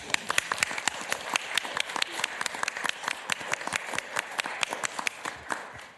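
Audience at a Ramsey County meeting clapping for a retiree, distinct individual claps in a fairly sparse, uneven rhythm, close and clear, with no talking.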